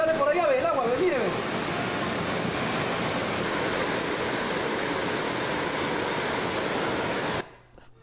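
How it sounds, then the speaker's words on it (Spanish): Floodwater rushes out through a collapsed wall in a loud, continuous broadband roar, with excited voices over it at the start, before the sound cuts off abruptly near the end. "Se cayó la pared de Gonzalo, mira, ve cómo sale por allá, ve el agua"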